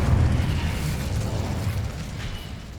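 An Incendio fire spell is cast in Hogwarts Legacy, giving a sustained roaring, rumbling burst of flame that stays loud and low throughout, fading slightly toward the end.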